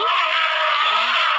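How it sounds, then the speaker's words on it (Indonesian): One loud, harsh elephant trumpet, blaring and sustained for over a second, close and unbroken. "Ya, ini gajah."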